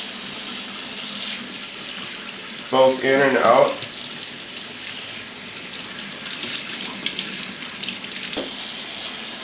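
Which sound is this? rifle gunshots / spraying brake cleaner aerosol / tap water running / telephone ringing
tap water running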